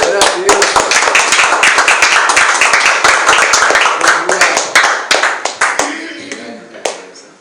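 Church congregation clapping hands together in a quick, loud, fairly rhythmic burst of close claps that thins out and tapers to scattered last claps near the end.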